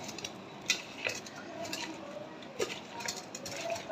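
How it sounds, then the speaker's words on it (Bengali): Spiny gourd and potato pieces being mixed with turmeric, cumin and coriander powder in a pan, with soft scraping, stirring and intermittent clinks of a utensil, close and fairly quiet. "কাঁকরোল আর আলুগুলো আমি ভালো করে মেখে নিলাম।"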